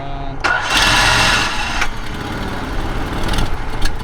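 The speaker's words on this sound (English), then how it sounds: "Let it idle once it starts." A Nissan car engine cranks and catches, then settles into a rough idle, loud and close, with voices talking around it.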